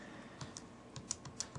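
Plastic keys of a TI-83 graphing calculator are tapped in a quick, uneven series of light clicks, about seven or eight presses, close and quiet with no talking.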